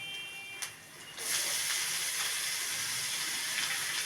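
Spinach hitting a pan of fried onions bursts into a loud, steady hissing sizzle after a quieter start with a brief clatter, then continues evenly with no talking.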